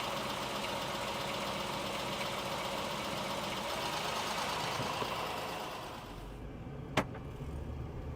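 A Honda Pilot idles steadily after an O2 sensor replacement, a low, even engine hum that drops slightly near the end, with a single sharp click.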